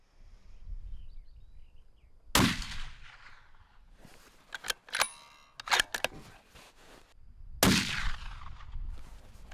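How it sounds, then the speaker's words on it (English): A 6.5 PRC rifle fired downrange outdoors, two sharp loud shots several seconds apart with echoing decay, and quick clicking bolt and handling noises between them. "we decided I needed to send a few rounds downrange to make sure I was comfortable with it and that it was shooting right"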